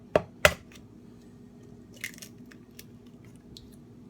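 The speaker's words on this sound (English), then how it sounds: "I'm going to crack my 4 egg whites into this bowl" Eggs cracked into a bowl while baking pumpkin chocolate chip muffins: two sharp close cracks in quick succession, then a few softer taps and wet drips in a quiet kitchen.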